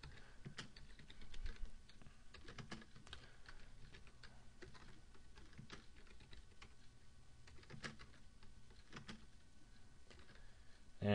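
Keys on a computer keyboard tap out a quiet, irregular run of clicks while someone types commands into circuit design software, the typing faint and close with no talk over it.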